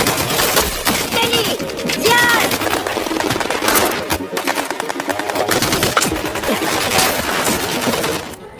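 A battle in Kosovo rages with heavy gunfire: rapid automatic bursts and single shots crackle almost without pause at close range, loud throughout, with faint voices mixed beneath the shooting.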